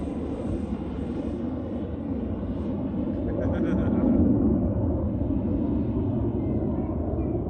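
A twin 64mm EDF radio-controlled MiG-25 Foxbat model jet roars overhead in a sustained rushing rumble that swells slightly midway and stays steady.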